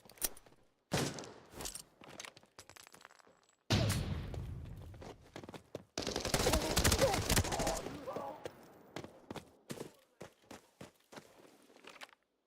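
Video-game gunfire while killing scavs: sharp isolated shots crack out at intervals, with two denser bursts of rapid fire in the middle. It is fairly quiet and close, with no talk.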